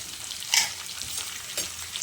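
Cumin, mustard seeds, chana dal, urad dal, dried red chillies and curry leaves sizzle in hot oil, giving a brief, close, steady crackle with a couple of sharp pops.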